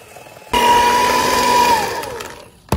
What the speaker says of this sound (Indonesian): Ini kita mixer sampai rata aja ya, speednya speed rendah aja.